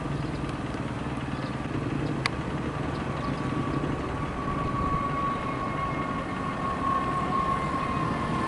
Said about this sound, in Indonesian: CIT sudah datang dari stasiun Halim, sedang meluncur ke arah timur stasiun Tegaluar.